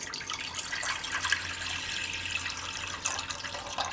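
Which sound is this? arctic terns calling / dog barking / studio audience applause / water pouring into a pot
water pouring into a pot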